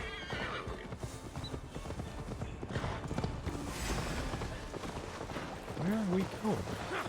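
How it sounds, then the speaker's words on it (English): In Assassin's Creed Valhalla, a horse's hooves clatter in a fast, continuous galloping rhythm under game dialogue, ending with a loud whinny near the close. "Your horse is slow, and her rider's drunk."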